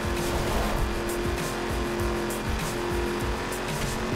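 Race cars in the driving game The Crew, a loud continuous engine drone with tire squeal as the cars push through a long race, and no one speaking.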